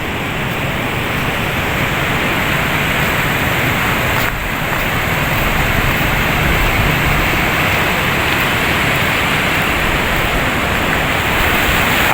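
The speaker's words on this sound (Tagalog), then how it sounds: "Wala pa rin nakalaot kasi malaki ang alon. Dala ng hanging amihan." Big sea waves pounding a Philippine shoreline, whipped up by the strong northeast amihan wind; a loud, steady roar of surf and wind continues throughout with no talking.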